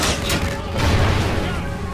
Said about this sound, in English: Grenade, by the way.